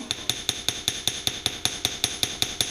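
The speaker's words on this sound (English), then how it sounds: "And then as you do the hammering, you move it around." A small metal piece being hammered at a workbench in a studio, sharp ringing taps in an even, rapid rhythm, roughly seven per second, close and clear with no talking.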